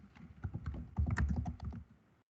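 Fingers type a discussion post on a computer keyboard, a quick, close run of soft clicking keystrokes in irregular bursts for about two seconds, then silence.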